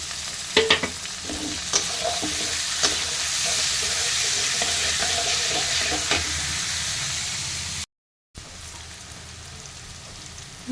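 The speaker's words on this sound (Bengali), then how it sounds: "সঙ্গে বাঁধাকপি আর গাজর কেটে রেখেছিলাম সেটাও দিয়ে দিলাম। এটাকেও একটু ভাজা ভাজা করে নেব।" Cabbage and carrot stir-fry in a hot pan with cauliflower, a loud continuous sizzle broken by sharp scraping stirs near the start, a brief dropout, then the frying carries on, with no talking.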